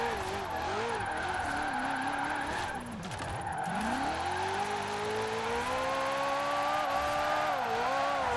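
A Maserati in Forza Horizon 4 revs and accelerates while drifting, its engine note climbing steadily in one gear over tyre skid noise, loud and continuous throughout.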